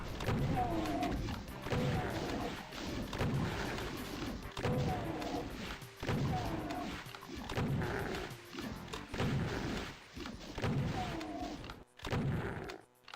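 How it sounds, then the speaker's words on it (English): Super shotgun blasts in Doom 2 with ray tracing, a run of heavy booming shots fired in a steady rhythm about once every second, loud and close, each followed by a brief reload clatter, with game noise in between. "Super shotgun."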